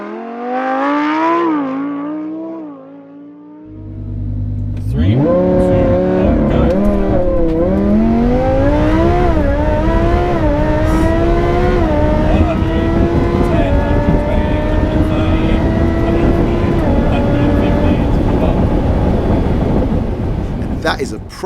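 A supercharged Lamborghini Huracan and a Porsche 911 Turbo S launch on a quarter-mile run. After a brief idle, loud engine roar rises through repeated gear changes and holds close and sustained to the end.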